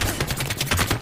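Rapid automatic gunfire in the video game Apex Legends, a dense burst of about ten sharp shots in quick succession, loud and close with no talk.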